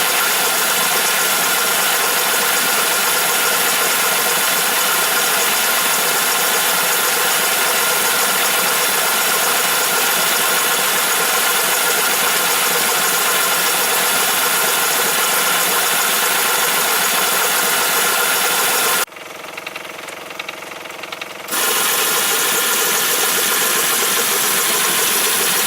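A small compressor motor temporarily fitted to a Wilkinson-pattern model steam tram runs with a steady loud whirring drone, cutting out briefly for a couple of seconds before resuming.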